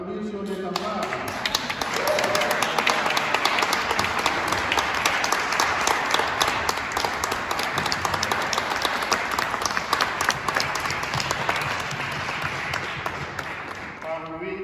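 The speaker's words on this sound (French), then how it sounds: "On peut encore les applaudir sur les tables." Sustained applause from a large church congregation at an Easter Vigil, dense clapping rising quickly and holding steady for over ten seconds before tapering off.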